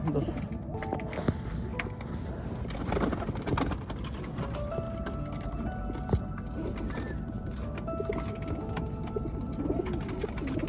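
Racing pigeons coo softly in the background amid scuffling and movement, with people talking close by throughout.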